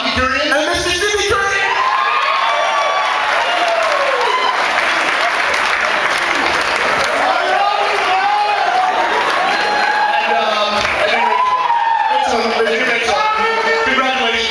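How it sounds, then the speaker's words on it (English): Wedding guests give the couple a sustained, loud round of applause that fills the room, with cheering, whoops and crowd voices mixed in throughout. "give a round of applause to Mr. Bobby and Mr. Sibbies"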